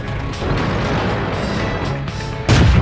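A tank cannon fires in World of Tanks and the round slams into an enemy tank, a loud rumbling mechanical roar capped by a heavy, booming blast near the end, with no talking.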